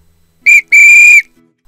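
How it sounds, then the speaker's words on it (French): A school headmistress blasts a whistle twice, a short shrill toot followed by a longer piercing note, loud and close with nothing else audible. "Elle donne un grand coup de sifflet,"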